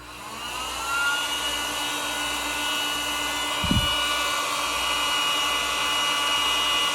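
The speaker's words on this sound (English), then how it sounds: "So I got some heat shrink here, and I got a heat gun." A heat gun runs steadily while shrinking heat shrink tubing over a laser module, giving a continuous airy blowing hum throughout with a brief thump partway through.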